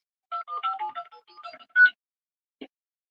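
Telephone dialing tones: a quick run of about a dozen short, close keypad beeps of varying pitch, ending on a louder final tone, then a faint click after a pause.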